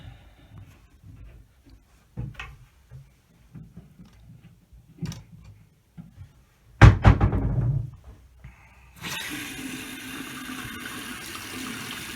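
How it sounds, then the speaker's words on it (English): Water gushes steadily from a Moen single-handle kitchen faucet after some quiet handling clicks and a brief louder clatter, the running stream continuing to the end. "we're going to turn the water on to the faucet"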